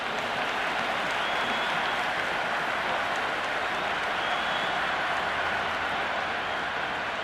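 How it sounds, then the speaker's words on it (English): A packed IPL cricket stadium crowd roars and buzzes continuously, a dense wall of cheering and clapping with no breaks. "It's the most enthusiastic crowd you could ever see right now. There's a buzz, a real buzz coming from the stands."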